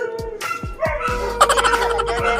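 A neighbor's dog barking repeatedly nearby, a quick series of sharp barks and yips in an uneven rhythm, fairly loud and close, with a faint voice in the background.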